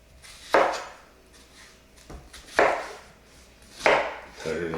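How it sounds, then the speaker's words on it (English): A knife chops onions on a cutting board while preparing pork birria: three separate, sharp, close-up thunks, spaced about a second and a half apart, with quiet pauses between them. "Cut it in smaller pieces to help my blender out."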